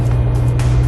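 Mitsubishi Evo 10 fitted with Öhlins Road & Track suspension driving the Nürburgring Nordschleife, a steady low engine drone with road roar running through the whole brief moment, close and loud.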